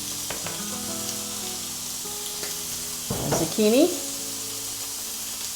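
Steak frying on a smokeless indoor grill with a continuous hiss and crackle, swelling briefly partway through, under a woman's speech.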